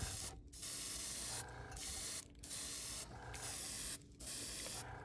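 An airbrush with a 0.2 mm nozzle sprays white paint onto a fishing lure in a series of close, steady hissing bursts, each lasting about a second and separated by short pauses.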